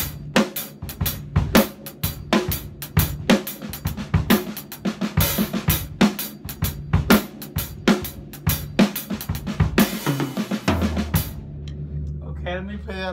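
A drum kit plays a steady, punchy 6/4 groove with regular kick and snare hits and busy cymbals, loud and close, ending in a ringing decay.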